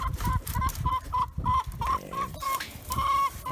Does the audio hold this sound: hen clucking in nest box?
yes